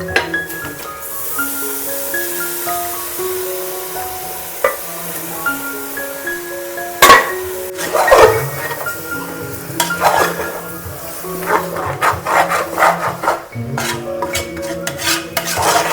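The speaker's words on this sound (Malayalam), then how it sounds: "നല്ലപോലെ ബീഫൊന്ന് ഇളക്കി കൊടുത്തിട്ട്" Washed beef pieces are tipped into a pot and stirred for a home-style meat curry, a steady run of scraping and clinking spoon-on-metal with a faint sizzle, close and fairly loud, with sharper knocks near the middle.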